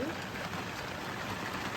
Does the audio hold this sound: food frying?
no